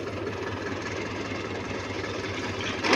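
A tractor engine idles with a steady low rumble and chugging, fairly close, growing briefly louder at the very end.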